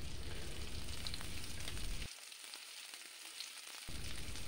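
Thinly sliced medium onion and cumin seeds fry in hot mustard oil for chicken tehari, a steady close sizzle that dips quieter for a couple of seconds midway before returning to full strength.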